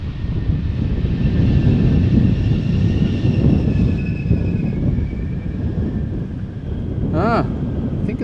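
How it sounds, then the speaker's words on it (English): A Delta Airbus A330 airliner at Schiphol airport gives off a steady, broad engine rumble at moderate distance, with wind buffeting the microphone and a short squeal near the end. "That's a Delta A330."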